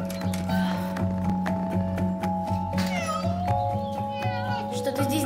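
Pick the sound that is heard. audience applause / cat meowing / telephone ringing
cat meowing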